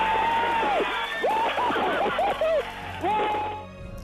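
Mission control staff cheer and whoop after a Mars rover touchdown is confirmed, with excited shouts and raised voices over scattered applause, fading out near the end.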